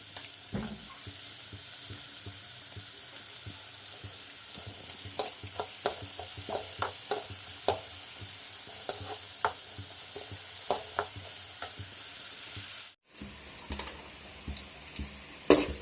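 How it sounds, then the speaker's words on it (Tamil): Chopped pirandai sautéing with ginger and garlic in a pan, a constant close sizzle with sharp scraping stirs that come in irregular bursts, a brief break near the end, and no voices. "இந்த பிரண்டை பொடி பொடியாக கட் பண்ணி வச்சுருக்கேன் அதை வந்து வதக்கி எடுத்துக்கிறேன்"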